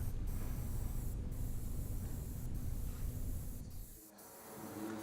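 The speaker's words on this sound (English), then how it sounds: "I just spray over the edge of a loose glove on my finger" A steady hiss of an aerosol spray-paint can runs continuously, close and fairly quiet, easing off briefly near the end before resuming.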